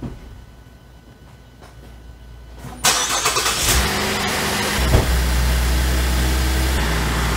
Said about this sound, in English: So let me go give this thing a crank.